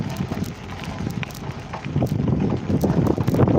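Wind buffets the microphone on a vintage bicycle ride along an unpaved road from Hull to Hornsea, a low rumbling roar that swells louder toward the end, with rattling and crunching from the ride underneath.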